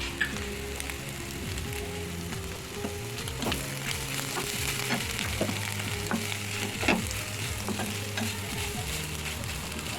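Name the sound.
egg and drumstick leaves stir-frying in a pan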